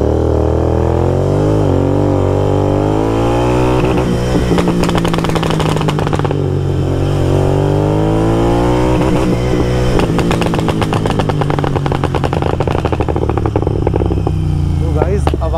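A Continental GT 650 motorcycle fitted with a Code 6 exhaust revs up and down repeatedly, loud and close, its engine rising and falling between bursts of crackling pops and bangs on the overrun.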